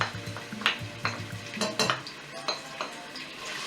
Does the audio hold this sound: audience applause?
no